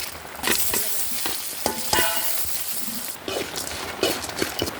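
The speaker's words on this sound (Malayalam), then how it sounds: "എണ്ണ ചേർത്ത് കൊടുക്കാം, 1/2 സ്പൂൺ കടുക് ചേർത്ത് കൊടുക്കാം, ഉഴുന്ന് പരിപ്പ് ചേർത്ത് കൊടുക്കാം" Mustard seeds and urad dal fry in oil for lemon rice, giving a close crackling sizzle with scattered pops and spatter and a few stirring scrapes of a spoon in the pan, with no one talking.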